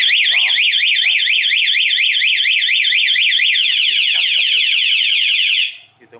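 A Honda Click 125i motorcycle's anti-theft alarm blares loud and close in a rapid warbling siren that rises and falls steadily for several seconds before cutting off abruptly.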